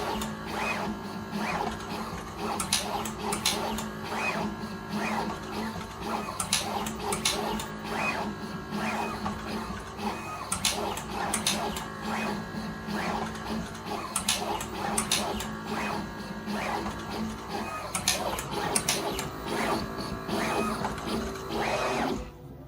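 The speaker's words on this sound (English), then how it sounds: "What is your opinion about TVM-82 PNP machine?" A TVM-82 pick-and-place machine for building electronics runs continuously with dense mechanical ticking and clicking, rapid placement strikes and a steady motor whir, all fairly loud and close with no pauses.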